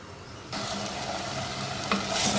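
Mutton fries in a handi for a Punjabi village-style roast, a loud close sizzle that bursts in after a quiet start and holds steady with stirring.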